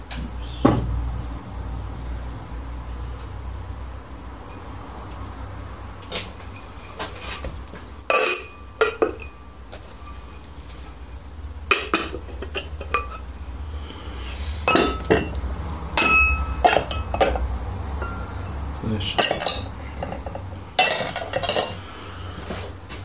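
Glazed stoneware bowls unloaded from a cone 8 electric pottery kiln, with scattered sharp ceramic clinks and knocks, some single and some in quick clusters, close by over a quiet, low background hum.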